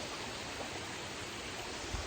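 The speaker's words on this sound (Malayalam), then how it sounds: "നമ്മുടെ വീട്ടിന് തൊട്ടടുത്തിൽ തോട്ടിലേക്ക് പോവാണ് ഗൈസ് വലിയ വെള്ളമൊന്നുമില്ല" Small shallow stream running through woods beside a house, a soft steady wash of flowing water, fairly faint and continuous with no talk.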